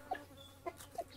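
A hen clucking in a Korean children's audio story, heard as a few short, soft clucks spaced irregularly over a faint background, with no voices.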